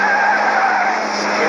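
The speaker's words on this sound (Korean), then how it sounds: "타이어 스키듬이 들려오면 긴장감을 얻게 되고 드라이버가 상당히 약간 심적으로 부담을 얻게 되는데" Tires squeal as a Mitsubishi Lancer Evolution with a twin-clutch transmission corners hard on a test drive, a continuous, loud, close screech holding steady for the whole brief moment with no talk over it.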